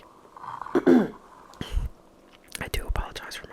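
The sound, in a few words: coughing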